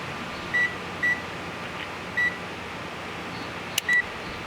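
A multimeter gives several short, high beeps while checking a starter power wire for continuity to ground, spread unevenly over a steady background hum.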